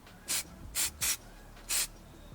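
Four short bursts of aerosol spray paint hiss in an uneven rhythm, close and fairly loud, with quiet pauses between them, as a Warhammer model on grey plastic is primed.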